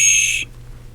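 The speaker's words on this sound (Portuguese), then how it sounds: "Também podemos usar apito." A single short, shrill whistle blast, used to stimulate a child's speech, sounds for under half a second and then cuts to near silence.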